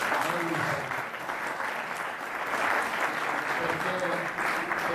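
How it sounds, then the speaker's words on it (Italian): Sustained audience applause follows a poetry reading, a dense, even wash of many hands clapping at moderate volume for several seconds. "uno super applauso."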